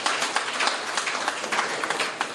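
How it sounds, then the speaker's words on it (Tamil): Steady applause from an audience at a Rotary Club installation ceremony in Pudukkottai, many hands clapping in a dense, continuous patter with no talk over it. "உண்மையிலே அவருக்கு மிகப்பெரிய ஒரு கைத்தட்டு நம்ம கொடுக்கணும்."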